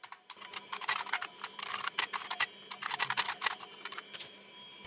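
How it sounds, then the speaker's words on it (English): Rapid, uneven keystrokes on a homebrew IBM Model M keyboard from a Wheelwriter, typing in WordPerfect. The clacky clicks come in bursts with short pauses, close and crisp, with no talking. "The keyboard is quite easy and intuitive to use."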